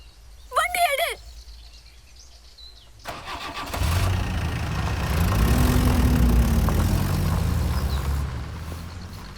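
A brief voice comes first, then after a short pause a vehicle engine cranks, catches and settles into a steady mid-pitched idle that swells slightly before easing off.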